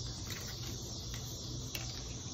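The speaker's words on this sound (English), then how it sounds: "There's the cicadas." Cicadas drone through open windows on a late-summer day in Indiana, a faint, steady, high-pitched buzz with no talking.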